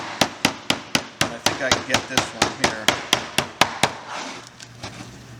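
T-molding being tapped onto the side panel of a bartop arcade cabinet on a table, about sixteen sharp, evenly spaced knocks at a quick steady rhythm, close and loud, then stopping as someone speaks briefly.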